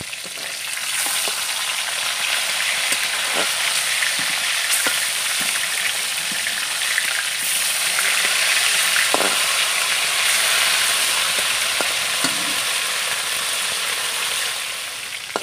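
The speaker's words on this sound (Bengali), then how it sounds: "মাছ ভাজা হয়ে গেছে দেখো" Fish fry in hot oil in a pan, a constant close crackling sizzle lasting the whole stretch, broken by occasional sharp clicks and pops from the pan.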